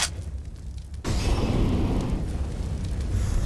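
A Molotov cocktail bursts into flame in a Counter-Strike match, a sudden whooshing ignition followed by a sustained roaring crackle of fire, loud and close.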